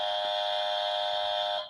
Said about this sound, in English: What's that? It's a buzzer.